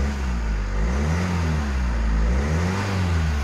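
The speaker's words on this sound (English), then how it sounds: "Engine lovely." A SsangYong Korando car engine revs steadily and loudly up close, a deep rumbling hum with rising and falling pitch sweeps, no talking.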